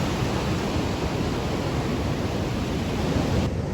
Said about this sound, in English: Hear the crash of the waves.